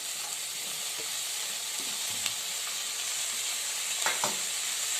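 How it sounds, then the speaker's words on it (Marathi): Leafy greens with salt and chopped spring onions being sautéed in a pan, giving a steady, even sizzle close up, with a few soft scrapes and stirs breaking through near the end and no talk. "मीठ परतून घेते आपली भाजी"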